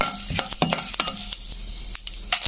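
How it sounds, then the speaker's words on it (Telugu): Tempering spices of chana dal, urad dal, mustard seeds and cumin frying in a pan, a hissing sizzle broken by repeated sharp clinks and scrapes of stirring. "తర్వాత పోపు దినుసులు వేసుకున్నాను. శనగబ్యాళ్ళు, ఉద్దిబ్యాళ్ళు, ఆవాలు, జీలకర్ర,"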